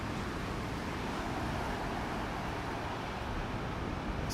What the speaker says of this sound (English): But it is windy, and it's going to get windier throughout the day